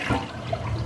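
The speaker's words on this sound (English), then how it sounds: "Let's go ahead and flush and see how much comes off." A toilet flushing after a cleaning product is placed in the bowl, a short, close, continuous rush of swirling water with no talk over it.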